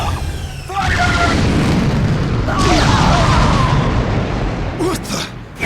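Ship cannons fire and explode in the video game Asura's Wrath, a dense, continuous roar of booming blasts and rumbling detonations with bursts layered over each other, loud and close, with game voices speaking over it.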